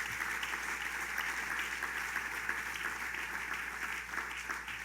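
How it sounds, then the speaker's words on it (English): Steady applause from a crowd fills the space, a continuous wash of clapping heard from a little distance. "So let's give a round of applause to the state police."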